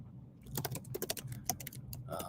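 Rapid, irregular clicks of fingers typing on a computer keyboard, close and moderately quiet, with short pauses between bursts of keystrokes.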